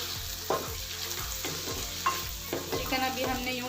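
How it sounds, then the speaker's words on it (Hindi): Chicken sizzles and crackles steadily with onion and garlic in a hot pan while a utensil scrapes and stirs in irregular knocks. "इसको हम अच्छी तरह फ्राई कर लेंगे प्याज और लहसुन में।"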